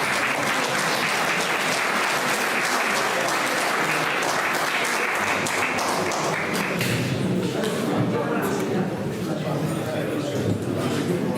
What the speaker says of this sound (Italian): Ma che un applauso a Maria Teresa Birrighetto